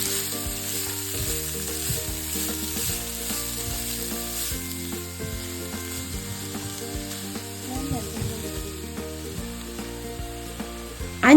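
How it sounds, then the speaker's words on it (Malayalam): Broccoli mix for a Kerala-style broccoli and payar thoran cooking over medium flame in a pan, a steady close sizzle with occasional stirring scrapes and clinks, no voices. "നേരത്തെ തയ്യാറാക്കി വെച്ചിരിക്കുന്ന ബ്രോക്കലി മിക്സ് പാനിലേക്ക് ഇടുക"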